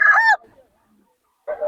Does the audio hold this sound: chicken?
yes